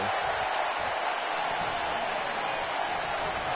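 A wrestling crowd at an NDW Extreme Rules show stands cheering and roaring as one continuous, dense wash of noise, loud and steady from start to finish.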